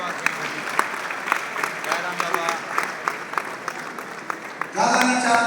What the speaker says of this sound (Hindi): ताली बजाओ, ताली बजाओ।